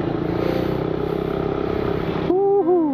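An automatic scooter motorcycle rides along with a steady, pulsing engine drone, close and loud, before it cuts to a sharper, rising whine near the end.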